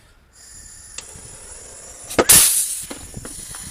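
Gas ignites inside a tire and blows out its Flex Seal patch in a sudden loud burst with a rushing hiss after a few faint clicks, set outdoors during a makeshift redneck tire repair.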